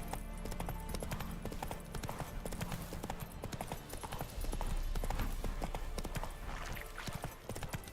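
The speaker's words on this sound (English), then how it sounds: "it, Roach." A horse galloping in The Witcher 3 video game, a fast steady clip-clop of hooves throughout at moderate level, with faint game background sounds.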